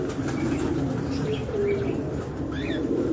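Baloch pigeons in a loft give soft, low coos that repeat, mixed with a few faint chirps over steady background noise.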